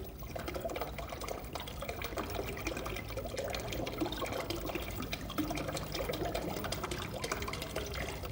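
Water runs and gurgles out of a plastic bottle during a chemistry demonstration, a steady continuous trickling pour heard alone and fairly quiet throughout.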